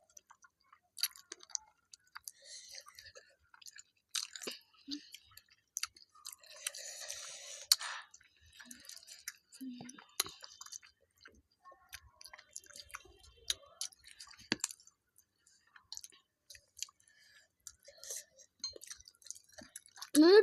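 Someone chews chicken feet, with faint, irregular wet clicks and crunches scattered across a quiet room, and soft speech now and then.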